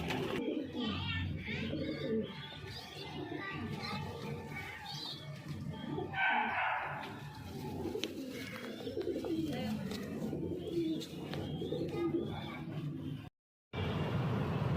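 Giribaj pigeons coo repeatedly nearby in soft, throaty bursts, while people talk intermittently in the background.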